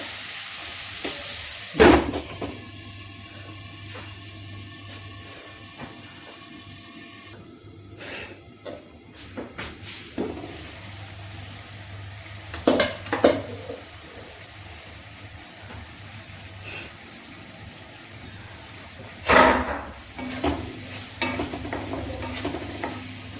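Potatoes cooking in a pan for methi sabzi, with a steady low sizzle and occasional louder stirring clatters and scrapes throughout, close and alone without talk.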